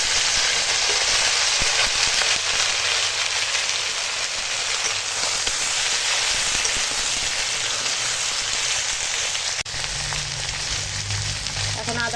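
Sliced ridge gourd and potato dropped into hot oil, a loud continuous sizzle like heavy rain that holds steady throughout, with a brief clatter near the end.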